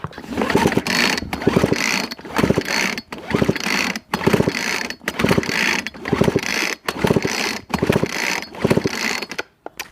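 Repeated pulls on the recoil starter of a Craftsman weed whip, a steady run of about nine ratcheting, whirring yanks separated by brief pauses, close and fairly loud.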